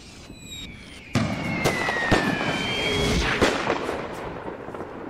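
Howitzers fire in Napoleon: Total War, with several sharp booming shots over a steady battlefield rumble, the first loud blast followed by a few more spaced reports.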